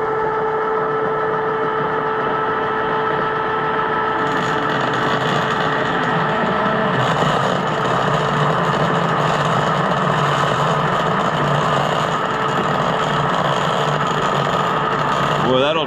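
Metal lathe turning steadily at 113 RPM while boring with the tailstock locked, a continuous mechanical hum and whine with no pauses, close and moderately loud throughout, with faint background noise.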